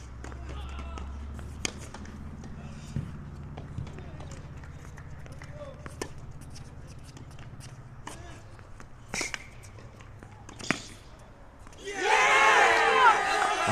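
At a college tennis match, scattered shoe squeaks and sharp knocks sound quietly in a hushed arena before the crowd bursts into loud cheering near the end.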